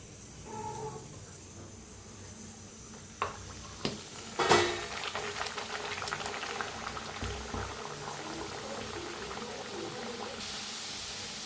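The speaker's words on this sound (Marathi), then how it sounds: "आता तेल गरम झालंय का बघूया." Pea kachoris deep-frying in hot oil, a dense bubbling hiss that rises after a few splashy knocks, then churns steadily and close without any speech.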